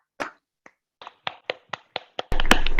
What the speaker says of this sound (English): Please give Elaine a round of applause